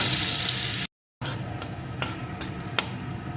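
Chopped onion fries in hot oil for a Bengali egg and soybean dish. A loud, steady sizzle is cut by one brief silent gap, with a few sharp stirring clicks near the end.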